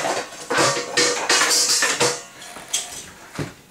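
Yeast, salt and flour mixed in a bowl with a utensil, giving a series of quick clinking and scraping strokes against the bowl, fairly close and uneven in rhythm.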